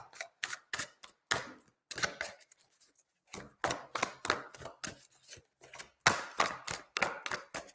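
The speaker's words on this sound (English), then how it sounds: "Stephen, giving these a really good shuffle." A deck of tarot cards shuffled vigorously by hand, producing a rapid series of crisp riffling bursts and soft slaps in an irregular rhythm, close and fairly quiet.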